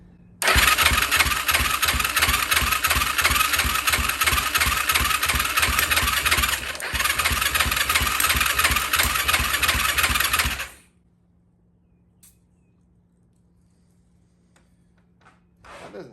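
A Yamaha YFZ450 quad with low compression starts and runs at a loud, steady, close-up chug for about ten seconds, then cuts off abruptly, leaving near silence with faint clicks.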